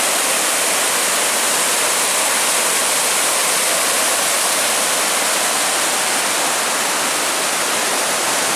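Loud, steady rushing of the Cascade River fills the whole stretch as a constant broadband roar of fast-moving water, close by and without voices.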